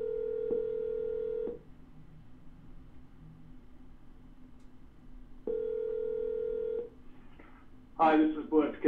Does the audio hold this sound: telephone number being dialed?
yes